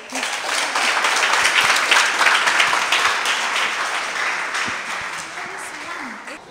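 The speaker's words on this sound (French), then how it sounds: "Je vous demande de l'applaudir, s'il vous plaît." Sustained audience applause at a lecture, a dense wash of clapping that holds steady and then tapers slightly, with faint voices mixed in.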